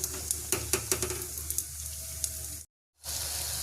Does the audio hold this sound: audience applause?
no